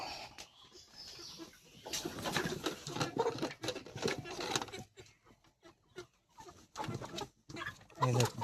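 Broiler chickens cluck and squawk as they are caught for sale at a poultry farm, a busy, noisy setting with rustling and scattered background sounds throughout.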